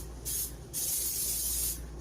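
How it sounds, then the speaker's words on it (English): Pam cooking spray hisses onto a pan in two bursts, a short spray followed by a longer sustained one, close and fairly loud with no talking. "spray my pan"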